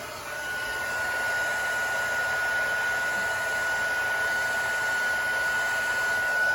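A small embossing heat gun warms epoxy on an ink-swirl sippy cup, blowing with a steady, close whoosh and a thin constant whine that hold unbroken from start to finish.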